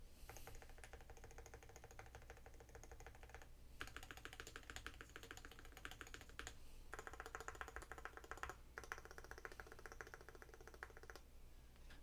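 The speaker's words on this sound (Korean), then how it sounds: "간단하게 한번 타건 들려드릴게요." Continuous clacky typing on a Meletrix Boog75 mechanical keyboard with magnetic switches, rapid keystrokes in bursts with brief pauses, close and clear.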